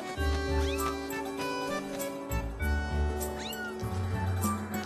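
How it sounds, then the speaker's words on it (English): A cat meowing in the video game Skyward Sword, several short rising meows over a steady layer of game music and effects. "Oh, it's a cat."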